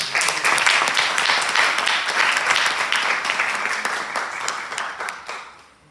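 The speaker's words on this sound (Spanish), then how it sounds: "Por favor, le damos un fuerte aplauso." A room full of people applauds at a business conference in Peru, dense sustained clapping that swells, holds for several seconds, then tapers off at the end, with no speech over it.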